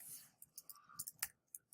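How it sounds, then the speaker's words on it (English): Light clicking keystrokes on a computer keyboard, about a dozen soft taps in an uneven typing rhythm, quiet and close with nothing else around them. "Let's try typing it, see if it helps."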